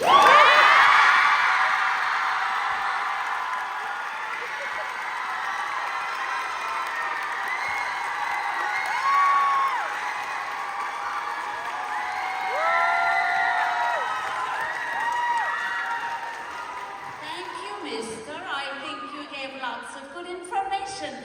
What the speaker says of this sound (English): I could not hear any of it because of the screams